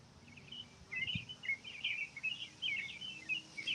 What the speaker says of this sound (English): Just love all the birds. Let's listen to them for a minute